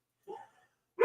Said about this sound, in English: My dogs just started barking when I said that.